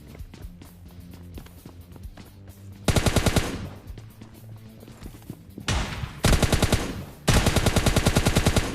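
Rapid automatic gunfire rattles in loud bursts during PUBG Lite gameplay, with several dense volleys separated by quieter stretches of background game sound and footsteps.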